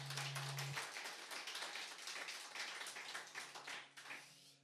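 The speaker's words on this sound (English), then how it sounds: "Please give a huge round of applause." A small audience at the Doncaster Roots Music Club, a live folk music venue, claps warmly. The dense, close clapping slowly thins and dies away toward the end.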